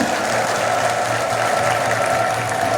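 A crowd applauds steadily throughout at a Christian worship gathering in Hawassa, Ethiopia, a dense wash of clapping at moderate volume.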